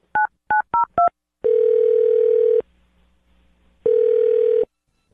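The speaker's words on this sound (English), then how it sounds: "I'm going to dial his phone number right now" Four short touch-tone beeps of a telephone keypad are followed by two long ringback tones separated by a pause, loud and close with no voices.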